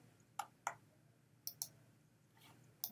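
A computer mouse clicks several times while working in Illustrator, faint sharp ticks in pairs spaced across a quiet room.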